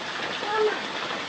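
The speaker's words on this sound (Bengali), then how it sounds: "এই যে বৃষ্টি," Heavy rain pours steadily in a brief, even wash of hiss, moderately loud and continuous, with no talking.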